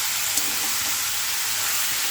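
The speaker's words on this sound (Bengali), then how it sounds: "এই তেলের ভিতরে মাংসটা সুন্দর করে ভেজে কষিয়ে নেব।" Beef fries in oil in a pan with a loud, steady hiss of sizzling throughout and a single faint tap near the start; no talking.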